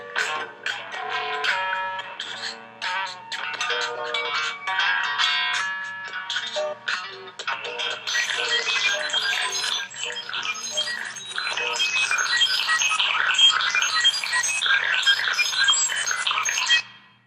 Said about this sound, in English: The whole ringtone sounds like this from the beginning.